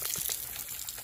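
Tap water running on an off-grid homestead in Thailand, a steady close splashing flow heard alone for a moment.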